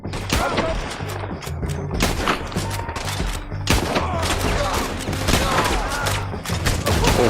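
Rapid gunfire in Red Dead Redemption 2, a dense fusillade of repeated loud shots and thuds over an in-game musical drone, with shouting voices mixed in.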